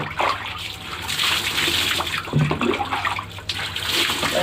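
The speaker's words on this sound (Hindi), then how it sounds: "दाहिने कंधे पर 3 बार पानी बहाए।" Water poured over a bather's body, splashing and running steadily and fairly close, with broad continuous wash and a few louder pours.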